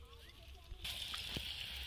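Fuchka puri dough dropped into hot oil for deep frying gives a sudden broad sizzling hiss that starts partway in and holds steady, with a brief pop, over low background hum.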